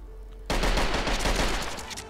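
Assault rifle fire in a Skyrim mod: a loud, fast burst of rapid shots starts suddenly and rattles on for over a second and a half, close and punchy, with no speech.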